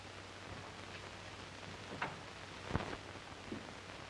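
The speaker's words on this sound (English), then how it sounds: "Rain, rain, rain. Whenever is it going to stop?" Soft, steady rain falls outdoors, a faint continuous hiss with a low hum beneath and a few scattered louder drips or taps, no voices.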